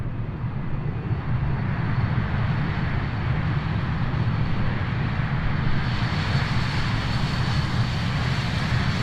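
Jet engines of a Just Flight BAE 146 airliner in the MSFS 2020 flight simulator give a steady, loud, close roar that holds evenly throughout, with no speech over it.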